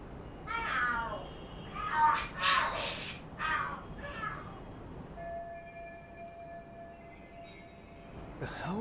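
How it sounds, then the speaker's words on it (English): Cats fight and scream in the video game Lost Judgment. Several loud yowling, wailing cries come in bursts, then a thin sustained tone holds before one more sharp cry at the end. No one talks. "Are there cats fighting?"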